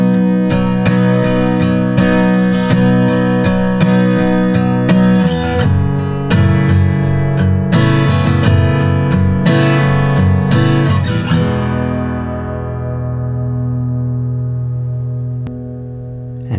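Acoustic guitar plays the ending of a song, steady strummed chords for several seconds, then a final chord left to ring out and fade, loud and close with no voice.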